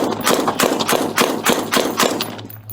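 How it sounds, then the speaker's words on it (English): Rapid gunfire crackles during a police shootout with an armed warrant suspect in New Mexico, a string of about a dozen sharp, loud shots in quick irregular succession before falling away. "Shots fired, he's shooting."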